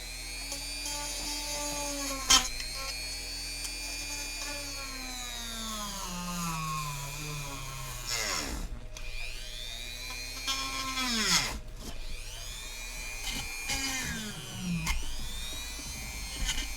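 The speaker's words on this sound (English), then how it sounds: "it's melting the PLA instead of cutting it" Power tool blade working into PLA plastic and melting it instead of cutting, a high whining drone that bends up and down in pitch as the motor loads and slows, with brief dropouts and catches.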